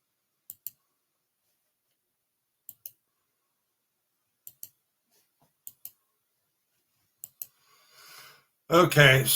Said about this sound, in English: I was clicking around in the background just playing.